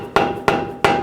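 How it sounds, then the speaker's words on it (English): Three light, evenly spaced metallic taps of a hammer seat a ball joint into the steering knuckle of a 2010-16 Buick LaCrosse front suspension, each hit sharp and close with a brief ringing tail and no talking. "Now grab the ball joint and line it up with the knuckle. Just be careful. Just give it a little tap."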